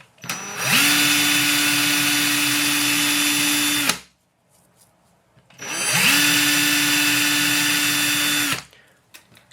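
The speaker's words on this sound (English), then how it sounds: "if you put the rotor into a drill and use the drill as somewhat of a lathe" The rotor of a Polaroid SX-70 camera spins in a power drill used as a lathe, giving two loud, steady whirring runs of about three seconds each, close up, separated by a short pause.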